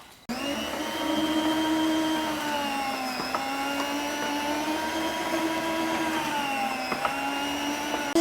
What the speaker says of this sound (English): So let's slice her up.